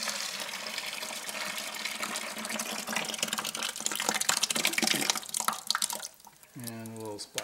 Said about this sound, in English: Pour the moto in.